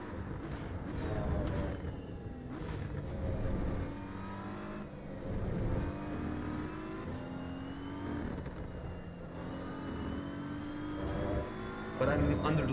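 A GT3 race car in the video game Assetto Corsa EVO revs and shifts through engine pitch sweeps, accelerating and easing off in turn, with someone talking over it.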